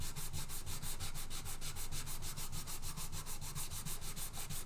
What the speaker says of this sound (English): now I'm just sanding it flush